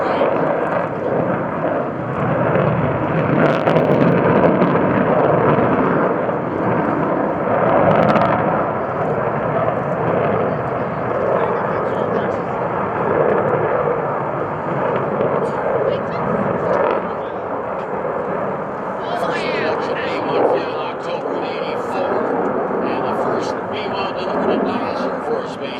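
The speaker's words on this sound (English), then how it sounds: "you're witnessing a combat takeoff and climb" Rockwell B-1B Lancer bomber making a combat takeoff and climb at an airshow, a loud sustained jet roar that swells and slowly fades as it climbs away, with an announcer talking over it.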